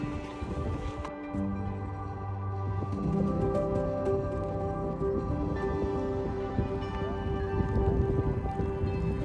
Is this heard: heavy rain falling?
yes